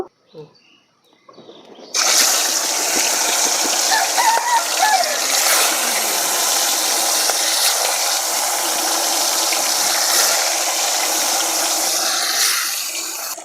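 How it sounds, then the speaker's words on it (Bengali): Pangas fish pieces go into hot oil in a wok with a sudden loud burst, then a dense, roaring sizzle that carries on strongly for the rest of the clip. "তো তেল গরম হয়ে গেছে, এখন আমি মাছগুলো কড়াইতে দিয়ে দেব।"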